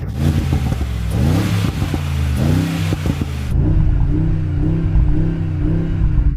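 An SUV engine, from a Mercedes-AMG G63 or a Land Rover Defender OCTA, revs up and down repeatedly, loud and close, with a rough rumbling exhaust note that settles into a steadier drone.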